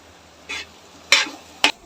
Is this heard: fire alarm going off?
no